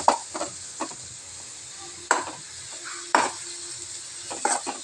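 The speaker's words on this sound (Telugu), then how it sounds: "కొంచెం పచ్చి కొబ్బరి కొంచెం వేగాలి." Grated fresh coconut is fried in a pan while a spoon stirs it, giving soft sizzling under several sharp scrapes and clinks against the metal, close and without talk.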